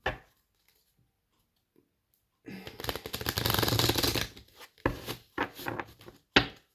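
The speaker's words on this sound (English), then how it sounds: "I'm going to give 3 shuffles" A deck of tarot cards is shuffled close up after a quiet start. A sustained riffling burst is followed by several shorter, crisp card shuffles and taps, with no talking.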